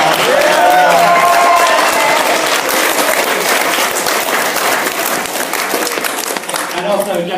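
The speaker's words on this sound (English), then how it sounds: "Give him a huge round of applause." Crowd at a youth wing debate breaking into a big round of applause, with dense clapping and some cheering while a voice talks over it near the start and end.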